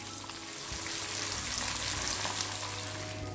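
Sardines fry in hot coconut oil, Kerala style, giving a steady, fairly quiet bubbling sizzle that runs evenly from start to finish with no one talking.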